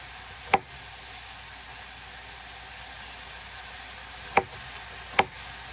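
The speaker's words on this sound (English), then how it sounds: "I got my squash being cut." Squash sliced for steak hibachi, three sharp knife chops on a cutting board, one early and two close together near the end, against a steady background hiss, with no talking.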